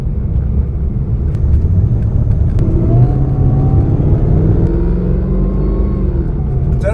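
Supercharged V8 of a Mercedes McLaren SLR accelerating, a loud, deep engine roar with supercharger whine climbing in pitch as revs build, heard close from inside the car with no talk.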